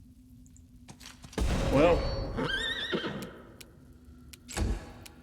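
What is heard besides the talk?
horse neighing in a video game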